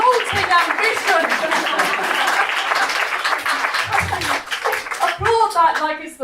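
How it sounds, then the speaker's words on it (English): An audience claps and cheers in a burst of applause at a comedy show, filling the room loudly, with scattered voices and laughter mixed in. "Applaud that like it's the most noble thing you've ever heard."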